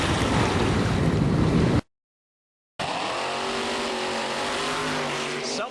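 Nostalgic hot rod race cars, including a 1967 Chevy Nova, roar loudly in a dense, continuous engine blast; it cuts out briefly, then returns with revving engine tones climbing in pitch, with no clear talk.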